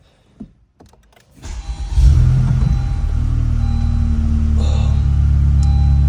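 A 2019 Honda Civic Type R FK8 fires up after a few quiet clicks, the starter catching into a sudden loud rumble that settles into a steady, close idle.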